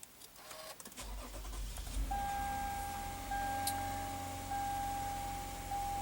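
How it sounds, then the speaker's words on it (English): A 2010 Toyota Highlander engine cranks briefly and catches, then settles into a steady close idle with a faint tonal whine above the rumble. "We'll go ahead and get her started."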